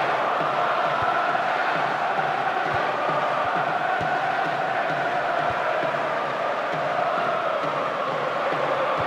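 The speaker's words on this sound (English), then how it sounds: "the crowd at fever pitch" A football stadium crowd at fever pitch during Reims vs Lyon keeps up a continuous, loud roar of cheering and chanting, with a few faint thuds underneath.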